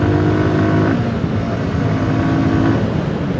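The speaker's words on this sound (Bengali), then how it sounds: "এরা ডাউন হয়ে বাইক চালাচ্ছে।" Several motorbikes race around an open field, their engines droning loudly and continuously close by, with overlapping buzzing tones that shift in pitch as the bikes speed up and ease off.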